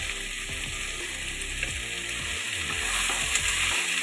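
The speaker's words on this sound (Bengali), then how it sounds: "ভালো করে নাড়িয়ে নেব।" Raw tomatoes with salt and turmeric sizzle and hiss in a pan over lightly fried onions and nigella seeds, with steady close frying and repeated scraping stirs for a puti fish chorchori.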